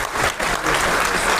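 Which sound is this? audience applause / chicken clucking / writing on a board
audience applause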